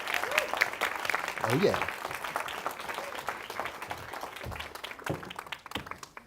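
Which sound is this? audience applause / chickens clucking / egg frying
audience applause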